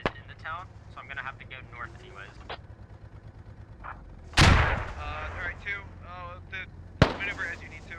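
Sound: grenade explosions in the video game Squad

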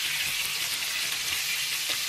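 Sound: potatoes frying with meat in a pan

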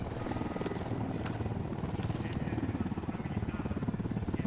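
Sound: helicopter approaching in Ghost Recon Wildlands video game

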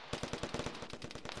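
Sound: machine gun fire in a video game

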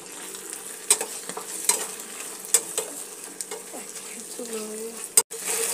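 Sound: stirring pasta ingredients with sugar and salt in pan

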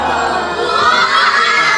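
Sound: children cheering as they enter a party-decorated house

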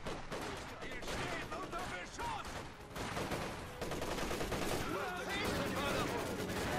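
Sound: artillery fire in video game Company of Heroes 2

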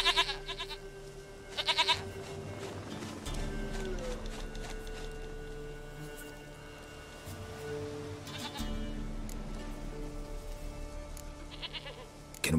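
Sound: goat bleating in video game The Witcher 3

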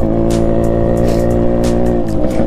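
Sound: Yamaha RX motorcycle riding

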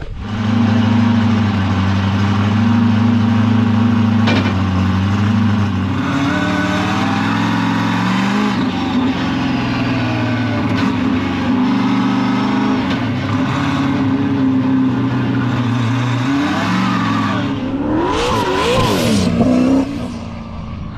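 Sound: Subaru BRZ car driving and accelerating

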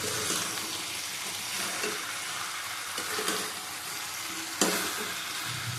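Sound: stirring potato, ridge gourd, pumpkin and prawn curry in pan

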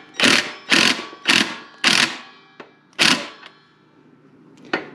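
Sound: loosening rear axle nuts on Coleman BT200X minibike

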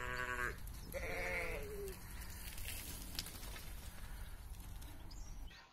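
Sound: sheep bleating loudly

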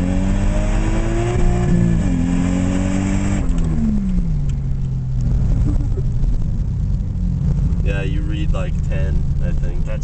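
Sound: turbocharged Lexus car engine revving

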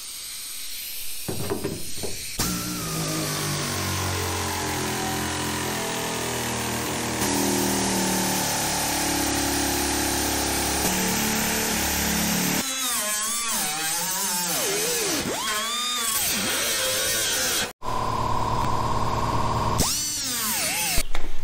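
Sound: zip cut-off wheel cutting car body sheet metal

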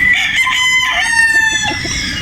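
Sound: straight comb stag (young gamecock) crowing

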